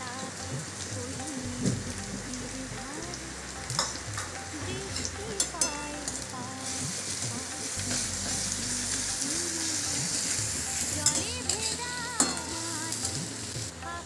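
Garlic frying in oil alongside already-fried onion makes a dense, continuous crackling sizzle, close and even in level, with scattered sharper pops and no talking.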